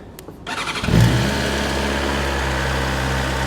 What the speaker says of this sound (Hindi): सबसे पहले इस मोटरसाइकिल को स्टार्ट करते हैं और इसकी आप लोगों को आवाज़ सुनाते हैं।